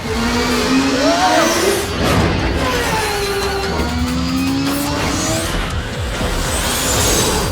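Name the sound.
turbo bike racing, from Max Steel cartoon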